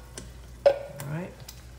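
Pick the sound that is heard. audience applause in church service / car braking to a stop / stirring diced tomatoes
stirring diced tomatoes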